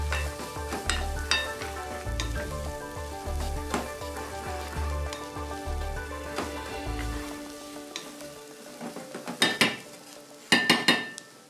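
Ginger, garlic, a cinnamon stick and curry spice mix sizzle and fry in a pan while being stirred, with occasional clinks of a utensil against the pan and a few sharper metallic knocks near the end.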